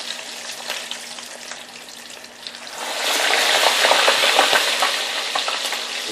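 Chicken tenders frying in hot grease on a gas stove, a near sizzle that swells into loud, continuous crackling and popping partway through.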